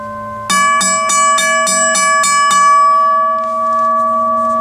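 A WABCO BA-10 mechanical bell gong strikes eight times in a quick, steady rhythm, loud and close, each ring sustaining a bright metallic tone that hangs on and fades slowly after the last strike.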